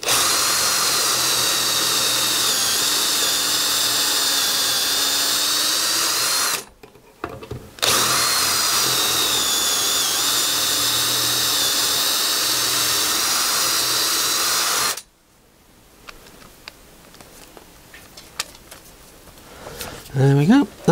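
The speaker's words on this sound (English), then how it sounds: "and then just drill away" A loud electric drill with a hex fitting whirs steadily in two long bursts into a meter cupboard frame, with a short pause between, then stops, leaving quiet handling noises and a brief rattle.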